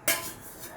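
A single sharp clink of a spoon against a pan while custard and milk are stirred together for a mango custard ice cream, followed by a faint, soft scraping hum.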